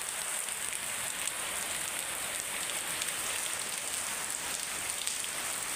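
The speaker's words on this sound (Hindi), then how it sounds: "देख सकते हैं बारिश कितनी तकड़ी हो रही है" Heavy rain pours steadily, a dense, even hiss of drops striking surfaces nearby with no pauses or voices.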